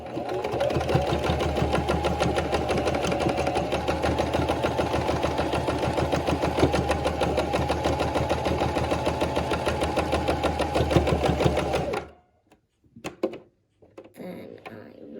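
A sewing machine stitching a purse runs in a fast, steady mechanical chatter for about twelve seconds, loud and close, then stops abruptly, followed by a few faint handling clicks.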